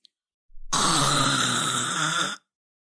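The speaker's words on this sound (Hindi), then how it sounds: "अचानक से तेज खर्राटों की आवाज सुनकर डर के उठ गई" A single loud, drawn-out snore, rough and rumbling, lasting nearly two seconds with no talking around it.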